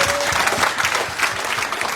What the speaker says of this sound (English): Can we give a clap offering to Jesus